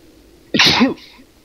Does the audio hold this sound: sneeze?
yes